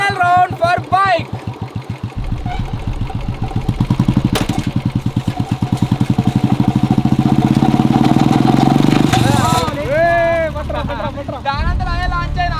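A motorcycle engine driving a monster tyre launcher revs hard and climbs into a loud, sustained rattling roar, then drops back to a sputtering idle, with people talking over it at the start and end.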